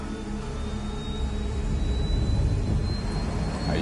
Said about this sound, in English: All this plane could do was take off, accelerate, and fly up.